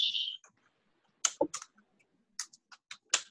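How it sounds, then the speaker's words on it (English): Keys clicking on a computer keyboard, a quiet run of sharp taps in irregular clusters with brief pauses, close and alone without speech. "what are you typing, Scott?"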